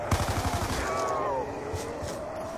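A quick rhythmic burst of MP5 fire in a zombie survival video game at a bus depot, rapid close shots up front that give way to quieter game noise.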